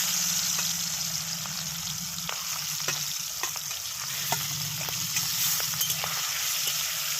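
Prawns frying in hot oil in a pan, a steady dense crackling sizzle with sharp pops and occasional utensil clicks, close and continuous with no talk.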